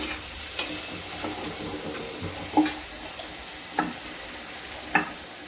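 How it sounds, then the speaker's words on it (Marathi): A spicy drumstick pod curry is stirred in a pan, with soft spoon scrapes landing at roughly regular intervals over a low, constant sizzle, fairly quiet and close. "शेवग्याच्या शेंगा जरा छान असं मिक्स करून घ्यायचं"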